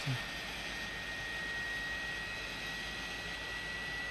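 Airbus A300 jet engines, Pratt & Whitney variant, in a home flight simulator, hold a faint, steady whine and hum the whole time, alone and unchanging.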